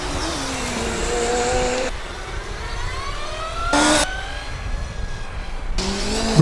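Formula Student race cars in an endurance event, engines whining and sweeping up and down in pitch as single cars pass close by one after another, with quieter engine drone between the passes.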